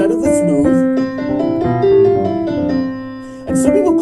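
Smooth, even run of notes from a finger exercise on a plucked string instrument, played steadily and alone at a moderate level with a brief pause near the end before the notes resume.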